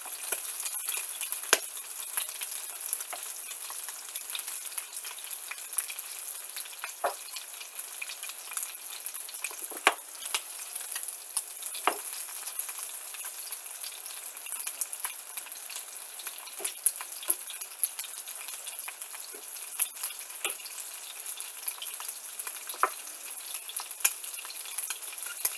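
Whole shrimp, some still in the shell, frying in a pan with a steady crackling sizzle and scattered sharp pops, close and continuous, with no talking.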